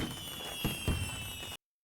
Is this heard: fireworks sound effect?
yes